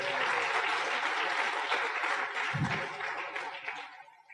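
Crowd applause, a dense patter of clapping that holds steady and then tapers off toward the end.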